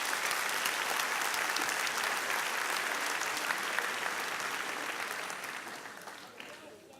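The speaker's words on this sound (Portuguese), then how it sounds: "Uma salva de palmas para Jesus aí." A crowd in a hall bursts into dense, sustained applause that holds steady for several seconds and then gradually thins and fades toward the end.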